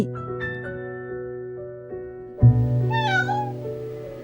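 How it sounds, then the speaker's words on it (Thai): A small cat meows in a 3D animated scene, one clear drawn-out meow arriving partway through over a soft sustained tonal music bed, close and fairly loud. "เจ้าแมวน้อย"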